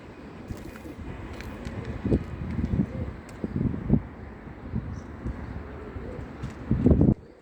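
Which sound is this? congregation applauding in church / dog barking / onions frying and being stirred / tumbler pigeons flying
tumbler pigeons flying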